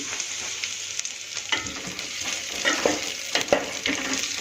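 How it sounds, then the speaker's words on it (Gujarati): Chopped ginger, garlic and chillies sizzle in a pan for Manchow soup as a spoon stirs them, a constant frying hiss broken by several scraping stir strokes, close and moderately loud with no talking. "આ રીતે ચમચાની મદદથી હલાવી દઈશું"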